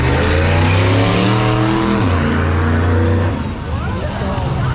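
A loud T-Bucket hot rod engine roars at high revs as the car launches and pulls away down the drag strip, its pitch shifting then fading slightly.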